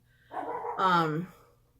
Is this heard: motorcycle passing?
no